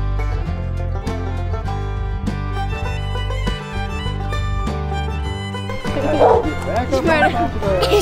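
Dogs in an American countryside setting bark and yip repeatedly, close and loud, with some whimpering and people talking over them.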